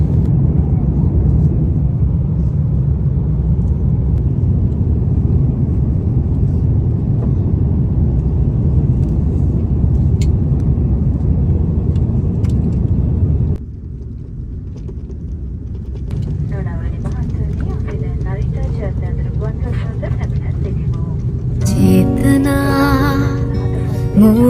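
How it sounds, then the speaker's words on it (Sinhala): An airliner's cabin fills with a loud, steady low rumble during the landing approach, then the roar drops abruptly and a quieter hum and mechanical sounds follow, with voices in the background. "දැන් ෆ්ලයිට් එක ලෑන්ඩ් කරන්න යන්නේ."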